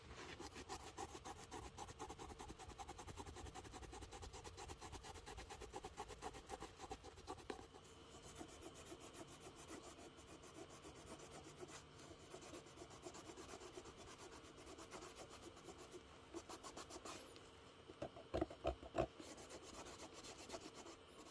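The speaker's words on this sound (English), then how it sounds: "I'm just going to take my microfiber cloth with some direct ShoeMGK, and we're just going to go ahead and give that a rub" Microfiber cloth with shoe cleaner rubbed on a leather boot midsole gives a soft, steady scrubbing and rasping that runs throughout, with a few sharper scratches near the end.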